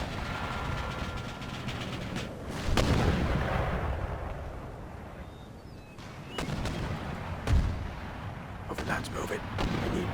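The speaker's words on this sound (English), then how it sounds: "Damn mortars are absolutely horrific." Mortar and artillery fire in the strategy game Empire Total War booms repeatedly over a continuous rumbling battle din, with several heavy blasts spread through the scene and someone talking over it.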